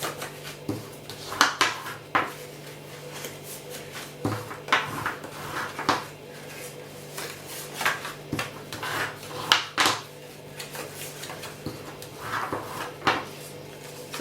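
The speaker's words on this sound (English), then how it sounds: "So now I'll just go in with the foam folder and burnish them all." A foam folder burnishes creased paper folds on a stamped mini treat bag craft project, making soft, close rubbing swipes and occasional light taps in uneven strokes, without any speech.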